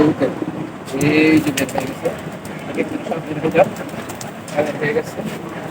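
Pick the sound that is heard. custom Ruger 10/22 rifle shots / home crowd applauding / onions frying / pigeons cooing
pigeons cooing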